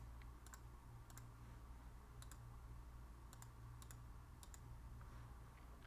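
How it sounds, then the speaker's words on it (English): Keyboard typing in a short burst, several light clicks spaced irregularly over a steady low hum, quiet and close. "I can start typing it in, filter by that."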